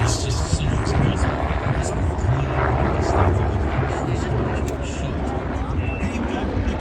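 Helicopter flying at an air show, a steady loud rotor and engine roar filling the scene throughout, with crowd voices and talk mixed in underneath.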